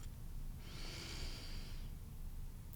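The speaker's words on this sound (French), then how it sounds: "vous inspirez en levant les bras à l'horizontale" A slow, steady inhalation during a sophrology breathing exercise, taken while the arms rise to shoulder height. The breath is faint and airy, lasts a little over a second, and sits over a low background hum with no talking.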